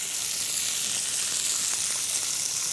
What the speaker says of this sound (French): La carcasse, on va la faire dorer un petit peu